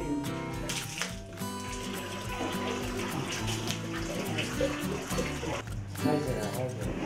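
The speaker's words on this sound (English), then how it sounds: "好，冲水喽。" A toilet is flushed in freshly scrubbed living quarters, its rushing water running for several seconds beneath voices and background music.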